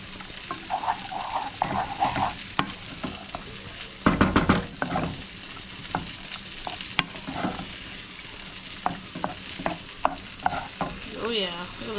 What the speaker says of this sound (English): And stir it in.